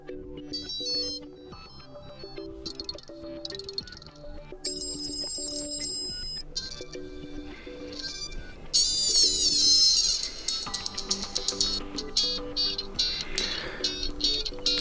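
Several pre-installed ringtones on a SOYES S10 Mini phone play one after another: bright electronic melodies and chiming alarm-like tones, each with its own pattern, some brief and some repeating, loud and close.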